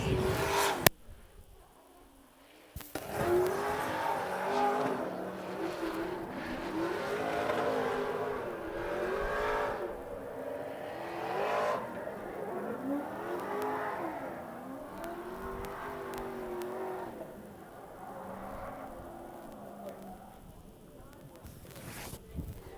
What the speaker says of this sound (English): And it looks like he will decide to drift this bye run.